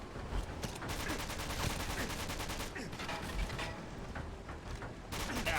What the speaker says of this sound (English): I am a terrible shot with the sniper rifle